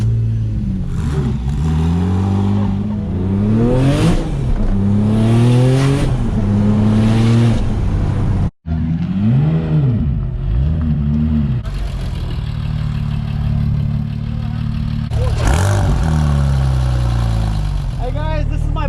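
A 1000 hp Porsche 911 of the 997 generation with a racing clutch revs hard while driving, the engine repeatedly climbing and dropping through loud, rising sweeps, with a brief cut near the middle and people talking over it.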